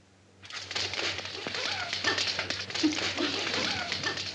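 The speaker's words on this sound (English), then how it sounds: "And these puppies are the cutest things." Puppies yip and whimper close by in an old Blondie comedy film, a busy flurry of small barks and whines over a low steady hum.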